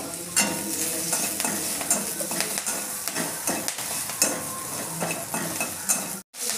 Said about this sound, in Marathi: ही शिमला मिरची पण थोडीशी भाजून घेणार आहे।